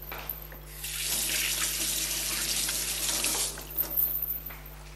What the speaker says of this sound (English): Let me just wash my hands because my hands have also gone into breading procedure.